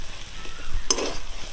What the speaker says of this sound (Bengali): নুন হলুদটা দিয়ে এটাকে একটু নাড়াচাড়া করে ভাজবো